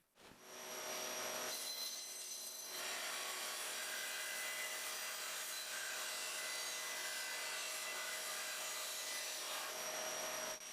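Band saw cutting through wood pieces for a braided cutting board, a steady continuous whine and rasp held loud throughout with no talk.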